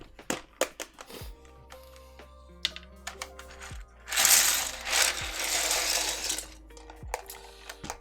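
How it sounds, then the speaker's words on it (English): Keycaps being pressed onto a 60% Optica mechanical keyboard: a run of sharp plastic clicks and clacks, some in quick clusters, with a louder stretch of rustling handling noise in the middle, close and without talk. "let's get some keycaps on the board"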